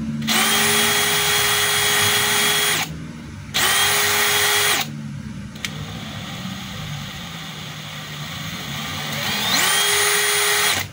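A DeWalt DCD796 18V cordless hammer drill runs after its switch has been replaced, with three steady high whining bursts that spin up and cut off cleanly, loud and close, separated by short pauses.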